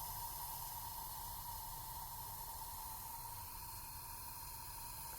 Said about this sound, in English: the sound of the water boiling that is contained in the crystals at the beginning.